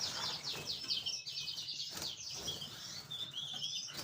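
Pet British finches and canaries chirp and twitter continuously in quick, high bursts, close and fairly faint, with soft fluttering and rustling beneath.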